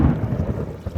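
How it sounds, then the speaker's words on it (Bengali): Deep thunder rumbles loudly with rain during a Kalbaishakhi storm over the middle of the Padma river at night, the low roll filling the whole brief moment. "ঝড় উঠছে, কালবৈশাখী ঝড়।"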